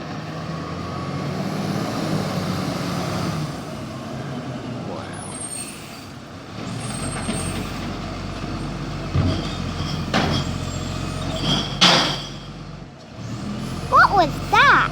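A garbage truck passes down a suburban lane in Whittlesea, its engine rumbling steadily with hissing air brakes, rising and falling as it nears, with short reversing beeps toward the end and some background voices.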